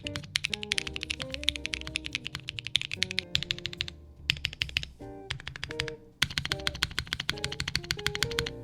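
Rapid typing on a QK65v2 mechanical keyboard, a dense stream of crisp, deep clacks close up with the spacebar thumping in among them, continuous apart from a few brief pauses.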